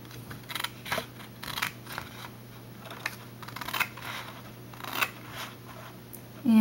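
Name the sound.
cutting paper along a score line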